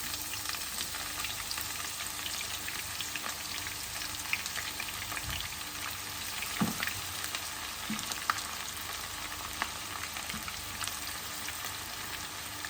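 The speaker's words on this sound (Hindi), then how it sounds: "अब इसमें हम ये प्याज डालते हैं।" Chopped onions fry in hot oil in a pan for kadhi pakora, giving a steady, dense sizzle that goes on throughout, with occasional stirring clicks and no speech.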